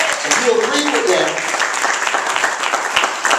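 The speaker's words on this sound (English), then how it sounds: "give God a hand clap of praise" A church congregation gives a burst of hand clapping in praise during a sermon, a loud, dense and continuous roomful of claps with some faint voices mixed underneath.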